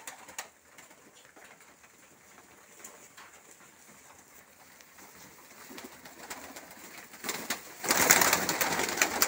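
Colour-tailed pigeons of Dagestan feed on barley and wheat, with soft cooing and bird sounds running throughout, then a louder burst of rustling and possible wing flaps near the end.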